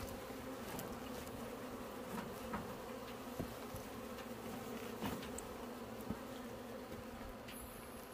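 Steady dense buzzing of honeybees and black hornets at a beehive entrance, continuous and close, with faint clicks and bumps scattered throughout.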